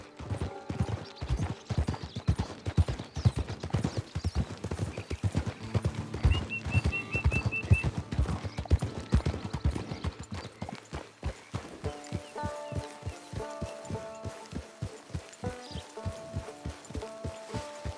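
Horse hooves clop in a steady walking rhythm in the video game Red Dead Redemption 2, close and clear, with a faint whinny partway through and a soft musical backdrop.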